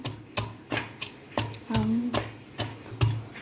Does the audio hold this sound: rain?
no